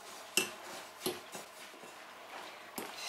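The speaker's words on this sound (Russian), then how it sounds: "Пересыпаем сюда кокосовую стружку и сгущенное молоко. И начинаем перемешивать." Spoon stirring coconut flakes into condensed milk in a bowl, a handful of sharp clinks and soft scraping scrapes at an irregular pace, close and fairly quiet.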